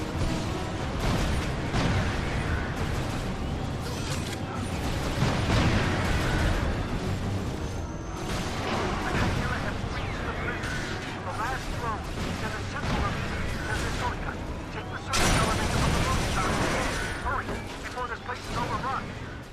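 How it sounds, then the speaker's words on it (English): Explosions and dropships in the video game Resistance 3, a dense, continuous roar of blasts, crashes and gunfire-like bursts running throughout with a sharper burst near the end. "In case it's not obvious from the frequent explosions and dropships"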